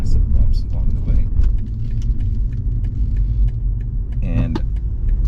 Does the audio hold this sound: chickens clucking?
no